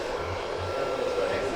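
A hair dryer on medium heat blows steadily with its tip pressed against a brush while a huge white beard is straightened, a continuous close whooshing hum throughout with no talk.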